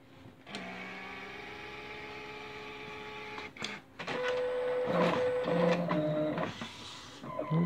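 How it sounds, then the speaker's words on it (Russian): An Epson SC-P600 inkjet printer running a direct-to-garment job with white ink on black, heard close up as a steady mechanical whine with tonal motor hum, a short pause, then busier carriage movement with clicks and shifting tones. "Принтер вышел на печать."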